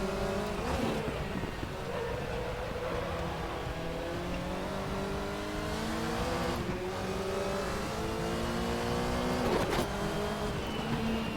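Group C prototype race cars lapping the Nordschleife in a sim racing game, engines revving up and down through gears with rising whines and sharp shift breaks, a steady loud car engine drone without talk.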